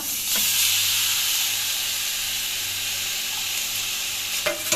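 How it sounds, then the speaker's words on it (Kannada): Grated beetroot and a tempering of spices sizzle loudly in a pan while being stirred, a constant close hiss and spatter ending with a couple of sharp utensil clinks. "ಇದೆಲ್ಲ ಮಿಕ್ಸ್ ಮಾಡ್ತಾ ಇದ್ದೇನೆ ಒಗ್ಗರಣೆ ಒಳ್ಳೆ ಫ್ರೈ ಆಗಲಿ"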